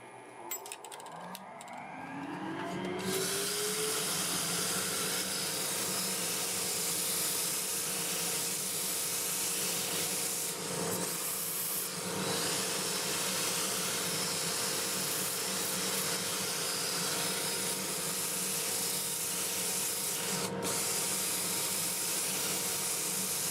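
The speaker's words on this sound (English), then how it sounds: "Start with a 2-inch disc, 80 grit, and we'll sand it up to 400. Lathe running forward at 350." A wood lathe runs forward at 350 rpm while olive wood is sanded with a 2-inch 80-grit disc. It spins up at the start, then holds a steady close whirring hiss with a faint hum throughout.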